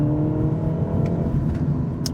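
A 2025 BMW 228 Gran Coupe accelerating hard on a slight uphill road during a 0-60 run, with a steady loud engine drone and road roar from inside the cabin.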